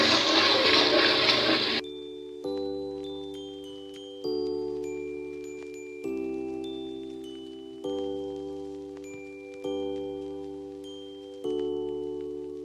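Ginger-garlic paste hits a hot pan for a potato and meat qurma, giving a loud, brief burst of sizzling that cuts off after a couple of seconds, followed by a repeating melodic music loop.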